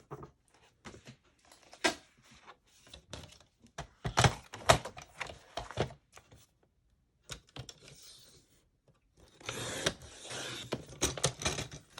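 Paper being trimmed for a scrapbook mini album: a run of sharp, irregular clicks and thunks from a paper trimmer, separated by quiet gaps, then a brief rustling burst, close by.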